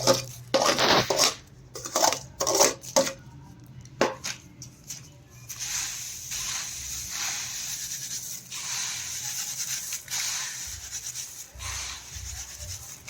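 Puffed rice bhadang being mixed with fried peanuts, loud dry rustling and scraping strokes in quick bursts at first, then settling into a softer continuous rubbing and stirring with occasional clinks, close by and without speech.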